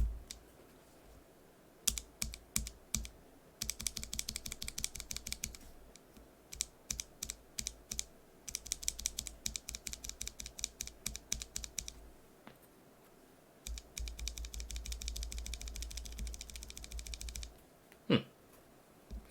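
Typing on a mechanical keyboard fitted with lubed NovelKeys BOX Cream switches: dense bursts of clacky keystrokes in several runs separated by short pauses, close and moderately loud, with one sharp louder knock near the end.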